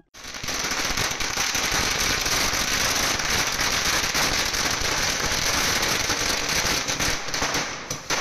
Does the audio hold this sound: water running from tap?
no